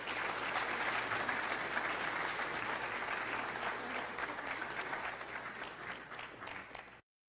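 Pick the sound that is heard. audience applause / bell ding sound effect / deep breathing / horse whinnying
audience applause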